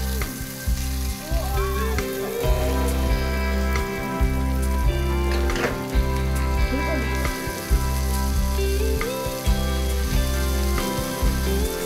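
Thin veal slices topped with prosciutto fry in butter in a pan, a steady, dense sizzle with crackling pops and occasional scraping throughout, close and continuous.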